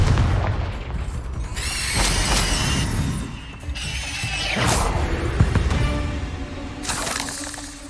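A Confringo blasting spell in Hogwarts Legacy fires off as a string of heavy booms and crackling blasts with mechanical clatter, loud and close, repeating several times through a chaotic battle.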